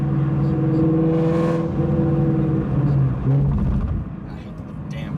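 A Ford Mustang Shelby GT350 engine revs hard during a burnout, holding a loud, steady droning tone that wavers and dips slightly, with people talking over it.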